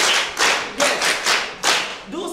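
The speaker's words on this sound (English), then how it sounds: "Clap for her." A classroom group claps in several short bursts for a classmate acting out physical activities such as jogging and jumping, each burst a quick round of hand claps separated by brief pauses, close and fairly loud.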